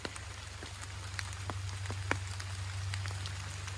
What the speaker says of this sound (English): Just started to rain a little bit harder.